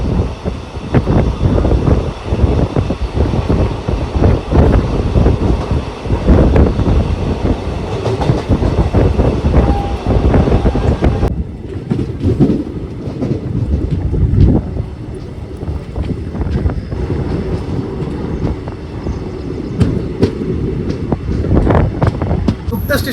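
A passenger train from Mumbai to Bidar runs along the track, heard from inside as a loud, continuous rumble with rattling and rhythmic clatter, plus wind buffeting and a slight drop in roar midway.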